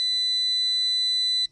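A single sustained high electronic beep from a DeWalt automotive jump starter when a button is pressed, piercing and steady for about a second and a half before cutting off abruptly.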